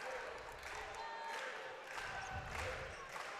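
Travelling Hawaii fans cheering at a men's volleyball quarterfinal against Penn State, a broad arena crowd roar swelling in waves, with a commentator talking over it.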